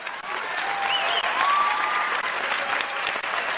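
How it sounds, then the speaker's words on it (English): A live comedy-special crowd breaks into loud, sustained applause, a thick wash of clapping that swells in the middle, with faint whoops mixed in. "Applause break number 2."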